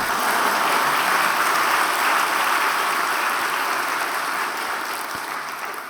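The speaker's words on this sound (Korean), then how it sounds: "박수를 칠라면 치세요." Church congregation at a Friday worship service applauding together, a dense, steady clapping that fills the room and holds at full strength before easing slightly toward the end, with no voices over it.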